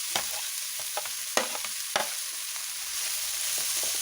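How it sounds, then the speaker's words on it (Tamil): Chopped shallots go into a pan of frying beef curry, giving a steady sizzle broken by several sharp stirring scrapes and clinks near the start, then settling into a continuous fry. "சின்ன வெங்காயத்தை கட் பண்ணது அதை சேர்க்குறோம்."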